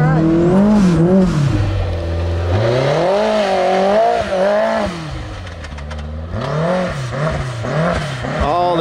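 A Can-Am Maverick X3 side-by-side in race mode revs hard and close, its engine pitch repeatedly climbing and dropping through loud accelerations with a rattling exhaust note.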